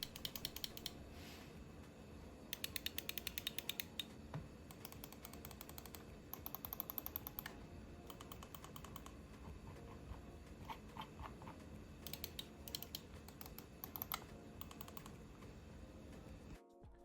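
Button clicks from a Razer Viper V2 Pro gaming mouse: quick bursts of crisp, close clicks in irregular clusters with short pauses between them, faint and dry, no voices.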